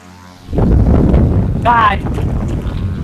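A strong gust from a motor-driven air fan buffets the microphone, a sudden loud rushing roar that starts half a second in and keeps going, with a brief voice over it.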